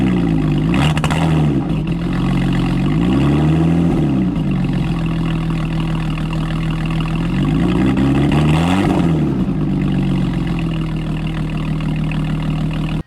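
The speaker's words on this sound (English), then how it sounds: "On the first startup, the car ran a little rough." A Lotus Evora engine idling rough right after first startup, a steady close low rumble with uneven pulses and two throttle blips that rise and fall, with no talk over it.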